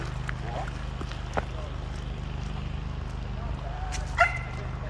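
A dog in a park gives a couple of brief, faint barks and yips, one early and one near the end. They rise above a steady background of outdoor noise.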